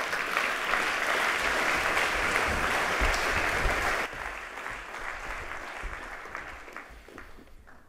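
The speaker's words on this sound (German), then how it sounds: "Applaus." An audience at a marketing conference applauds as a loud, dense wash of clapping that drops in level partway through and then fades gradually.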